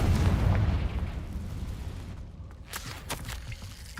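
A Confringo fire spell explodes in Hogwarts Legacy, a broad rumbling blast that fades into a few sharp crackling pops near the end.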